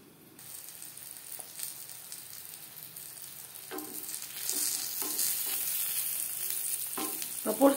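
Eggplant slices fry in oil in a covered pan; a quiet crackle builds into a steady, louder sizzle with scattered pops and a clatter near the end, close and without speech.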